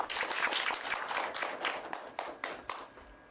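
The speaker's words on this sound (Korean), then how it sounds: "큰 박수로 모시겠습니다." Audience clapping welcomes a guest lecturer at a political talk, a dense burst of applause that thins into a few separate claps before fading out.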